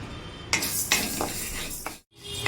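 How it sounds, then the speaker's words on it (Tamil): Horse gram dry-roasts in a pan while a spoon stirs it, making several close scraping and rattling strokes with a short break just before the end. "கொள்ளு வந்து ஆஃப் கப் எடுத்திருக்கேன் அதையும் வந்து ரோஸ் பண்ணிக்கோங்க கை விடாமல் கிண்டிக்கோங்க"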